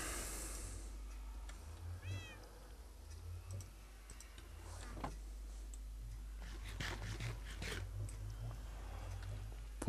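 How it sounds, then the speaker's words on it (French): A cat meows somewhere in a Minecraft world, a short rising cry at moderate distance over steady game ambience, with soft ticking and scattered clicks around it. "Pourquoi j'entends le chat?"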